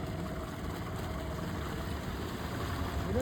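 A small boat fitted with a 9.9 outboard engine runs on a river, a faint steady motor drone with water wash and no pauses.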